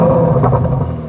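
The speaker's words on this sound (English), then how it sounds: "you can start it up from the key. And believe me when I tell you, this is quite the noise" A new Chevrolet Corvette Z06 with a naturally aspirated V8 fires up and rumbles loudly up close, a dense, throaty engine roar that holds steady and alone for about a second.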